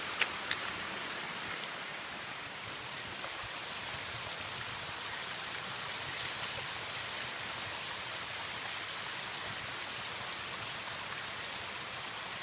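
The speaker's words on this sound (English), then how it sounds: "this part of the trail now is like a little river" Water gushes steadily along a hiking trail turned into a little river, a continuous broadband rushing close by with no pauses and no one talking.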